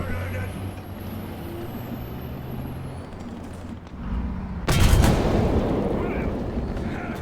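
A tank cannon fires once in the War Thunder video game, a sudden loud boom that follows a low engine rumble, with a voice talking throughout.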